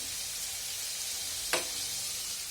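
Dosa sizzling on a hot griddle: a steady, loud bright hiss runs throughout, with one brief scrape or clatter partway through, close-up and with no voices.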